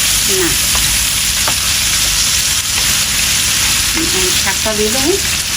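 Potatoes fry in a pan, a loud continuous sizzle close up with occasional stirring, while faint voices murmur briefly underneath near the start and end.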